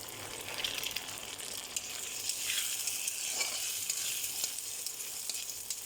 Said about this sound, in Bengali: আমার পেঁয়াজ আর কাঁচা লঙ্কা ভাজা হয়েছে, এখন আমি ডিমটা দিয়ে দিলাম